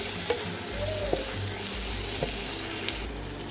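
Tomatoes sauté with chicken masala in a clay pot, producing a quiet, steady sizzle broken by a few sharp spoon scrapes and clinks against the pot, close by and without talk.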